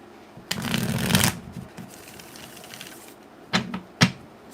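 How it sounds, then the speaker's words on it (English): A deck of tarot cards is shuffled close up: a long riffling burst, a quieter stretch of soft handling, then two short sharp riffles in quick succession. "I'm going to do an ASMR of just me shuffling."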